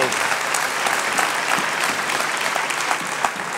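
A dense, even wash of crowd applause fills the whole stretch at a live comedy night show, loud and continuous with no break.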